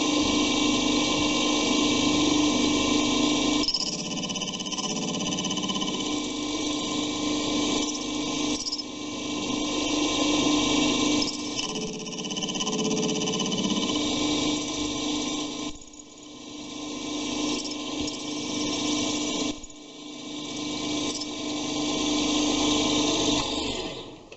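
A lathe or milling machine cuts brass for a multimeter fuse holder, giving a steady mechanical whir with a faint tone that shifts and dips as the cut proceeds, close and without talk.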